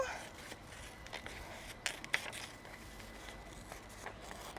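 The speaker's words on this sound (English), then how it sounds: "I'm gonna grab my scissors here and go ahead and cut a potato-shaped body." Scissors snip through paper while a craft body shape is cut out. The short, faint crisp snips come irregularly at close range, with no talk.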